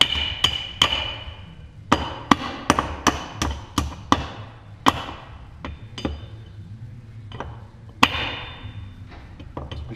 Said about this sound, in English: I'll just give it a little bit of a love tap with the official hammer.